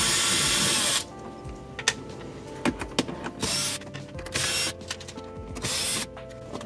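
Phillips head screws being unscrewed from Acura MDX dash trim with a power driver, short whirring bursts with clicks and pauses between them, close by, following a loud hiss at the start.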